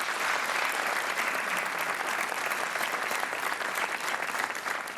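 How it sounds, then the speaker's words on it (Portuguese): A studio audience on the Portuguese game show Joker applauds contestant Miguel Pinto with sustained, even clapping that holds at steady strength throughout. "Um aplauso para o Miguel Pinto, o nosso super joker."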